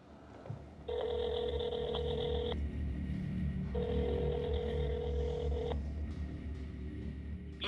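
A telephone rings through a call, with two long electronic rings separated by a pause, steady and fairly loud over a low hum, with no voices.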